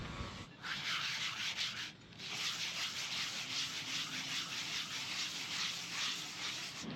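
Welds on a sailboat deck fitting being polished, a continuous close abrasive rubbing whir that pauses briefly twice, then runs on steadily.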